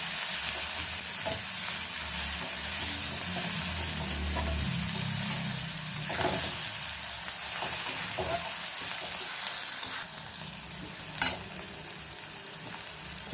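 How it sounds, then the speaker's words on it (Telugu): Onions fry in oil until brown for a broad bean, potato and tomato curry. There is a continuous close sizzle and crackle, with a few stirring scrapes against the pan. "ఉల్లిపాయలు బ్రౌన్ కలర్ వచ్చేంత వరకు కొంచెం వేయించాలి"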